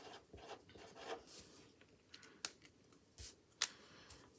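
Pen writing on paper, with close scratchy strokes and small taps and rustles in an uneven rhythm, quiet and alone.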